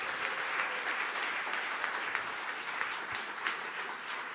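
Steady applause rises from the audience at an entrepreneurship gala in Montréal. It is a fairly quiet, even wash of clapping with no speech.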